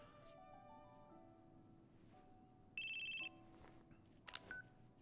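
A phone rings in the video game Crisis Core: Final Fantasy VII, a short electronic beep tone over soft game music, followed by a few brief chirps, quiet and without talking.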